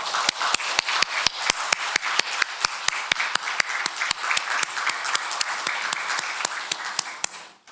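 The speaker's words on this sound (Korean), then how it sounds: "힘찬 박수로 영광 돌리겠습니다." A church congregation applauds at a Sunday service after a choir's hymn: steady, dense clapping from a crowd with a few sharper individual claps, sustained throughout and fairly close.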